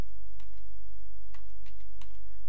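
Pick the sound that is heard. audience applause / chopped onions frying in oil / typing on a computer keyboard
typing on a computer keyboard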